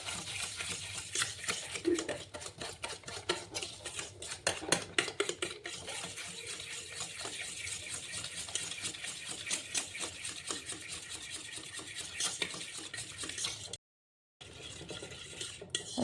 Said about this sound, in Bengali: এখন এই কাঁটা চামচটার সাহায্যে আমি ভালো করে মিক্স করে নেব।